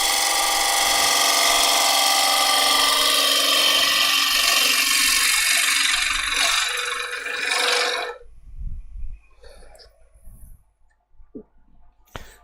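A wood lathe spins a piece of unknown wood with a crack in it, giving a loud, steady whirring rush with tool scraping for about eight seconds before cutting off abruptly, followed by quiet knocks and handling sounds.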